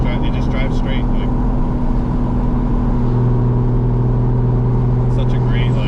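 A Toyota GR86 fitted with a 2JZ engine cruises along, its steady engine drone and road noise filling the cabin, with talk inside the car over it.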